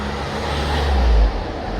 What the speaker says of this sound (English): Car gone by.